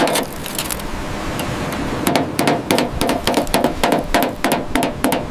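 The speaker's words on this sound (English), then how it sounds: "Loosening rusted panels carefully." Rusted body panels are worked loose on a 1970 Dodge Charger R/T recovered from the sea. Steady metallic scraping gives way to a run of close, irregular knocks and taps that repeat for several seconds.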